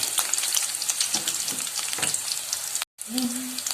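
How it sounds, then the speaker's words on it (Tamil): Garlic sautéing in oil over a slow flame gives a steady close sizzle with stirring scrapes, for veg noodles. A brief silent gap comes near the end, then the frying resumes with a faint low hum. "ஸோ பூண்டு போட்டு லைட்டாக ஒரு ஃப்ளேவர் கொடுத்துருங்க அந்த எண்ணெயில்"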